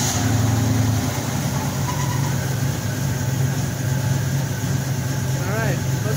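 A car engine with a Holley 4160 carburetor idles at about 700 rpm after an idle screw adjustment, automatic transmission in gear; a steady, close, continuous low hum runs throughout, with faint background speech.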